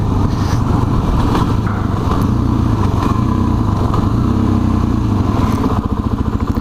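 Suzuki DRZ400SM motorcycle riding through city streets, its single-cylinder engine loud and close with a buzzy, throbbing note and rhythmic pulsing toward the end.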